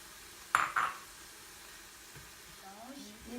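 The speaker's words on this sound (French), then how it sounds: "Mélange les épinards avec les tomates." Spinach and tomatoes are stirred in a frying pan, with a soft steady sizzle beneath two sharp clinks of a utensil against the pan, followed by faint scraping and a brief murmur of voice.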